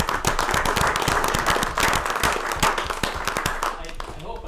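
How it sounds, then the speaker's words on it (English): A small group at a town selectboard meeting gives a round of applause, with close, distinct handclaps running steadily for several seconds as voices talk and murmur underneath. "I think he gets a round of applause."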